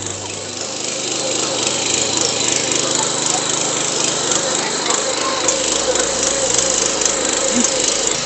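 A tractor fitted with a 35-blade rotor puddles a muddy paddy field, its engine a loud, steady drone laced with continuous churning and splashing that holds throughout.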